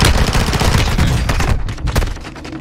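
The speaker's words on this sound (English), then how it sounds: "Throw a mortar strike on his roof." Mortar strike explosions in Call of Duty Warzone 2, a dense, loud rumbling barrage of blasts and rapid fire that fills the whole moment, then tapers slightly, with no talk.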